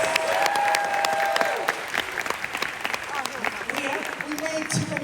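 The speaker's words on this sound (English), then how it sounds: "We can have a round of applause." A film festival audience at a cinematheque breaks into applause, dense close clapping that swells and then thins out, with voices and cheering mixed in.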